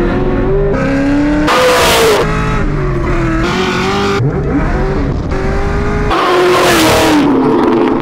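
A fully built 2003 Ford Mustang Cobra making over 860 wheel horsepower revs hard and loud, with repeated sharp climbs and drops in engine pitch close by.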